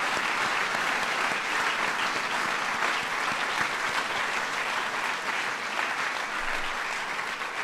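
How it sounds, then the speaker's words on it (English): An audience at a White House recognition event applauds steadily for several seconds, a dense, even wash of clapping at moderate loudness with no speech over it. "It's worth applause, sir."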